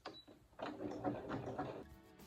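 A sewing machine stitches coiled rope into a Christmas rope bowl, a quiet close mechanical whirring with rhythmic pulses lasting about two seconds.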